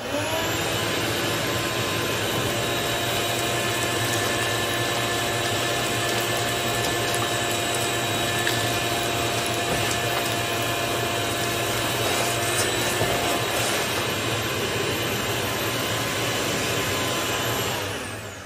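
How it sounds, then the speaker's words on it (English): A shop vac draws sawdust through a vacuum switcher with a steady, loud, high-pitched roaring whine that holds constant for about eighteen seconds and then cuts off, with no talking. "This will be connected to the shop vac, and we're going to time to see how long it takes to suck up all of this sawdust."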